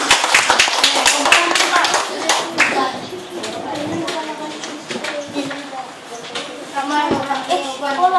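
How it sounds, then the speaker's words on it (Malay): Pupils in a classroom give a round of hand claps, loud and busy at first and then thinning out, while a teacher and children talk over and after it. "Bagus, beri tepukan kan ya."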